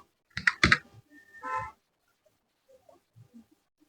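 A few keystrokes on a computer keyboard during spreadsheet data cleaning, a short burst of clicks followed by fainter scattered taps, close and fairly quiet.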